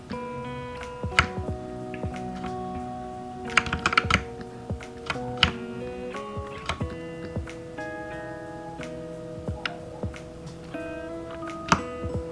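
Close, crisp computer keyboard key presses, including a Ctrl V shortcut, tap out in irregular clusters while drawing in Adobe Illustrator, over soft sustained background music.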